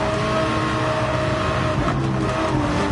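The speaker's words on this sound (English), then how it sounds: "listen to that engine." A race car engine roars at the Nürburgring Nordschleife in Gran Turismo 7, loud and sustained near at hand, the revs holding high with a brief dip and recovery partway through, no one speaking.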